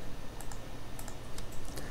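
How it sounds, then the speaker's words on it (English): Rapid, uneven typing on a computer keyboard, close and fairly loud, with clustered keystroke clicks and short pauses and no voice over it. "let me start by just typing this in"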